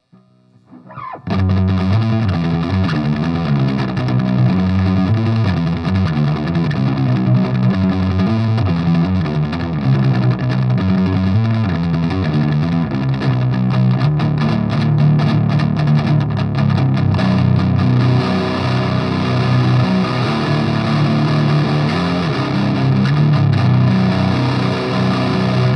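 Electric guitar amp with its bright and deep dark channels bridged, heard as a thick, loud distorted chord strummed and sustained for a long stretch with a slightly phasey character, with no voices.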